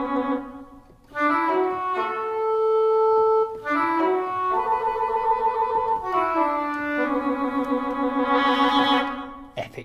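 Sustained woodwind tones with rapid whole-step trills between two close pitches, layered instruments including English horn shifting through several chords, loud and full with no talking.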